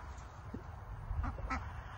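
Khaki Campbell hen ducks quack faintly in a few short, scattered calls over a steady outdoor background hum.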